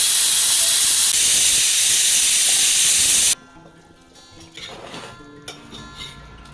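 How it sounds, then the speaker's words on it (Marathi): A loud, steady hiss of steam rushing out of a pot of cooked mixed vegetables for a few seconds, then cutting off abruptly, leaving faint clinks and quiet background sounds. "हे पहा सगळी वाफ काढून घ्यायची आहे"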